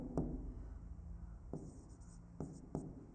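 A teacher writes on a board during a biology lecture, producing a few faint, scattered scratchy taps and strokes in a quiet room.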